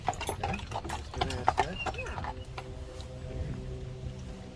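A team of Belgian and Percheron horses being hitched to a carriage in a barn area, with hooves clopping and tack clinking at mid distance beneath steady talk.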